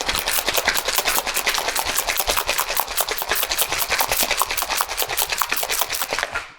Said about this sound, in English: So I'm going to add our ice to my tin. But because this has marmalade in it, you're definitely going to want a fine strainer. Add the cocktail, give it a nice shake.